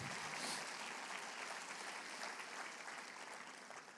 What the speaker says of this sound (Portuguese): Se você sente vontade de aplaudir ao Senhor, aplauda.